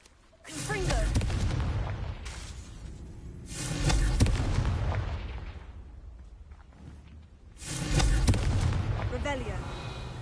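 Three booming blasts of the Confringo explosion spell in a video game, each a loud rumbling burst that fades over a couple of seconds, with speech heard faintly among them.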